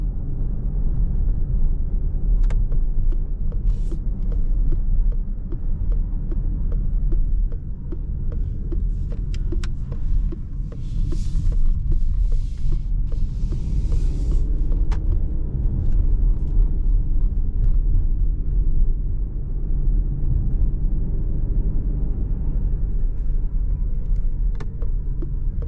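Opel Grandland Hybrid 145 driving at night, heard from inside the cabin as a steady low road and engine rumble with continuous tyre noise and a few faint clicks, no talk.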